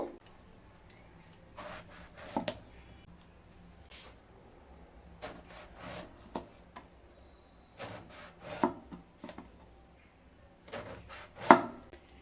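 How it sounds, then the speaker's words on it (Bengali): A knife cuts two brinjals (eggplants) into thin slices on a wooden board, giving clusters of short chopping and rubbing strokes separated by quiet pauses, close by with no talking. "এবার দুটো বেগুন নিয়েছি, বেগুনগুলোকে কেটে নেব।"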